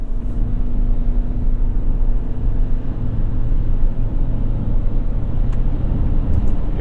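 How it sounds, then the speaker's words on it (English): A 2021 Toyota Sienna minivan accelerating toward highway speed, with steady, loud engine and road rumble plus low cabin drone continuing throughout, no talking. "So as we get up to highway speeds, we're going to get up to speed safely, effectively, comfortably."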